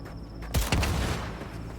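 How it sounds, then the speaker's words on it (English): Land mines exploding in the video game Cyberpunk 2077: two quick, close booms with a low rumbling tail that fades over the following second, set against a steady game background with no speech. "I really like the explosions from mines, though."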